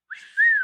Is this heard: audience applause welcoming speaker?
no